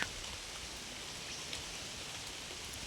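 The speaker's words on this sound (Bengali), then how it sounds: "আমাদের বাড়ির এখানে আজকে সকাল থেকে বৃষ্টি শুরু হয়ে গেছে" Morning rain falls outside a house as a soft, even hiss of drops, faint and continuous with no voices.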